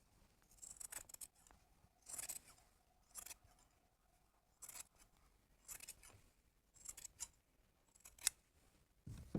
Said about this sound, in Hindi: यहाँ बीच में से काट देंगे ये इस तरह से